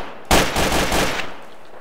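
Automatic gunfire from the Black Ops 2 video game bursts in loudly after a short quiet start, a sustained rattling volley that tapers off toward the end with no voices.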